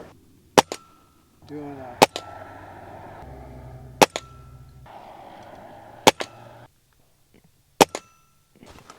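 A Ruger Impact Max .22 pellet gun fires five sharp, crisp shots, each alone and spaced about two seconds apart. Faint background noise and brief talk fall between the shots.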